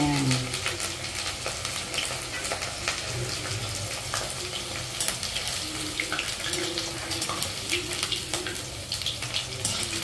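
Bitter gourd slices fry in hot oil, a dense continuous close sizzle and bubbling with occasional stirring scrapes, steady in level throughout.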